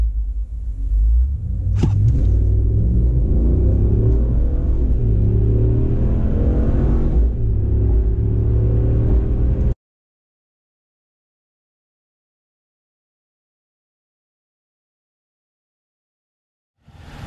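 A 2019 RAM 1500 pickup in four-wheel drive high and performance mode pulls hard from a standstill toward 60 mph, its engine roaring loud and steady for about ten seconds before cutting to silence.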